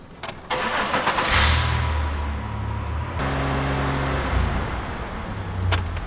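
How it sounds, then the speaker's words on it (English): A Chevy Impala engine cranks briefly, catches and roars up, then runs at a steady raised speed of about 2500 RPM with a loud, even hum, close by and with no talking. "This time we're gonna start, run at 2500 RPM"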